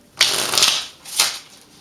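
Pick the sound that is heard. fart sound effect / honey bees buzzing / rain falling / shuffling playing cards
shuffling playing cards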